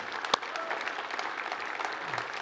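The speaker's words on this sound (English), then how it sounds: "So if we could start clapping for our platinum sponsor" Audience applause for platinum sponsor MongoDB at the PyCon AU 2024 Saturday conference opening, a steady dense clapping from a large crowd that carries evenly through the whole stretch, with one sharper clap standing out early.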